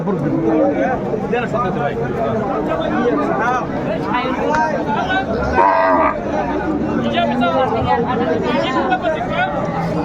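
Cows and calves lowing amid a busy crowd at the Ambari cattle market, with people chattering and talking close by throughout; moos blend into the babble of a crowded market.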